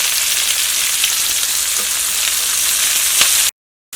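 Onion, ginger, garlic and curry leaves sizzle loudly in hot coconut oil after mustard seeds have popped. A dense, continuous frying hiss carries on until the sound cuts off abruptly near the end.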